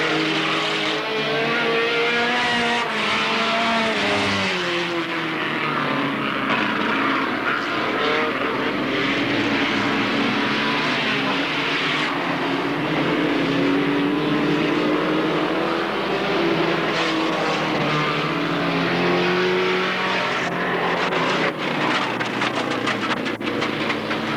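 Race cars lapping Alwalton Raceway in 1983, a loud continuous engine roar with rising and falling pitch as cars pass and cross the line close by, with no voices over it.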